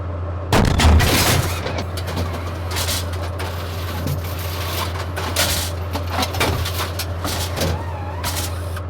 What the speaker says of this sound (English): Offset to the correct point and then fire the main gun.